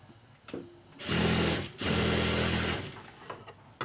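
Sewing machine stitching a blouse, two close bursts of rapid whirring needle action separated by a brief pause, with small clicks and handling noises before and after.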